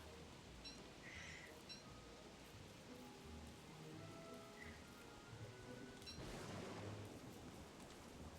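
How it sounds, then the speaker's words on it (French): Thunderstorm rain in the video game Don't Starve, a steady wash of rainfall with a low rumble of thunder that swells louder near the end. "Oh, en plus tout ça combiné à un orage."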